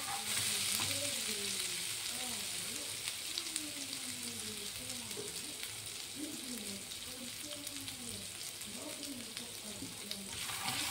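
Garlic frying in a pan for prawn curry, a steady close sizzle that runs throughout while someone talks over it.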